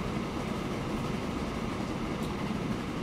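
A train runs steadily on rails in the video game Transport Fever as a continuous rumbling roll, even and close. No one speaks.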